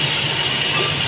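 Tomatoes go into a hot pan while vegetable pulao cooks, giving a steady, loud hiss and sizzle that holds evenly throughout with a low hum underneath.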